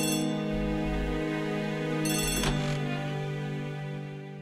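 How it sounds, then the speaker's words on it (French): An old-style telephone bell rings in a French period murder-mystery drama, two bursts of harmonic ringing about two seconds apart with a sustained tonal hum underneath, fairly loud and close, no talking. "Téléphone"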